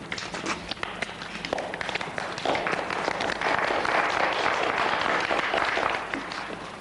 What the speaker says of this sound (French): des applaudissements timides